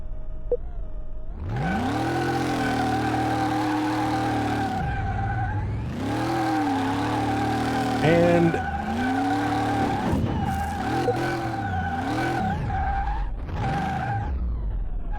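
A car with oversized tires on a Car Mechanic Simulator 2018 test track: a steady engine drone broken by repeated long tire squeals and skids as it revs and slides, loud and close, with no talk.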